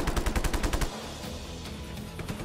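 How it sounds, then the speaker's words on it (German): Rapid machine-gun fire in Just Cause 3, a quick burst of loud close shots that stops abruptly, leaving a rumbling game backdrop. "Also direkt Ballerei hier am Start."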